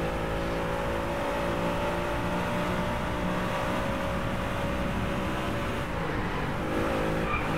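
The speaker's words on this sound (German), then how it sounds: "Wir wählen jetzt trotzdem wieder den Audi RS5, weil ich mit dem relativ gut klarzukommen scheine" An Audi RS5 race car in the video game Driveclub, a continuous loud engine drone at high revs with tire noise, held steady and close throughout.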